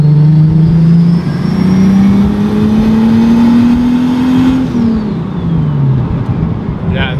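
Turbocharged BMW E34 engine revving up loudly and close, pitch climbing steadily for several seconds before dropping off, with a faint turbo whistle above the engine note.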